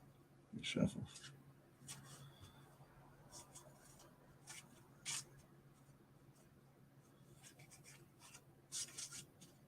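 Tarot cards from a 1998 Cosmic Tarot deck being shuffled, heard as short, soft papery riffling bursts near the start, middle and end over a quiet room hum.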